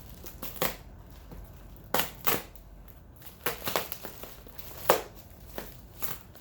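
Close crumpling of packing paper during the unboxing of a custom pollaxe, coming in separate bursts of crinkles and crunches with short pauses between them.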